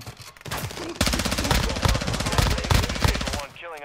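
Gunfire in the Call of Duty DMZ video game, rapid automatic bursts rattling loud and close in a sustained rhythmic stream for a few seconds, then cutting off abruptly.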